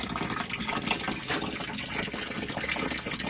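Water jetting hisses and gushes through a greasy sewer line via a Zip Drain, a steady, close, broadband rush of spraying water with no voices.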